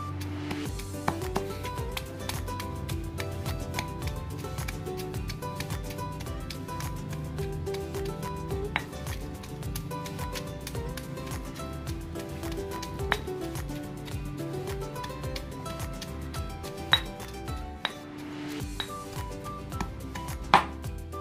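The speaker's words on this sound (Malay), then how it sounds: "Tumbuk dulu cili dengan ikan ni." A mortar pounds chili with fish for mango sambal, a steady run of close, sharp knocking strokes with occasional clinks, repeating evenly throughout.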